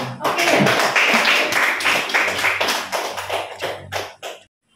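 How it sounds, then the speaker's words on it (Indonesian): A teachers' audience at a school presentation breaks into a burst of hand clapping that stays dense and steady for about four seconds, then thins into a few last claps before stopping. "Tepuk tangan semuanya."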